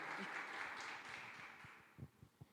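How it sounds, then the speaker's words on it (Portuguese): Steady church congregation applause fills the room, then thins out toward the end, leaving a few scattered claps. "Podem aplaudir, eles merecem."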